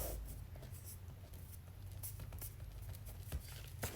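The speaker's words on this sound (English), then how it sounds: "so I will write 23" A pen scratches out a number on paper, several short quick strokes in bursts, close and clear against a quiet room during a crochet beanie tutorial.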